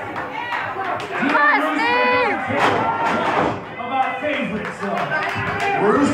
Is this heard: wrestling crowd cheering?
yes